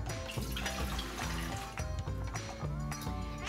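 Warm water pours steadily into a mixing bowl of gluten-free bread ingredients, a continuous close splashing and gurgling with no talk over it.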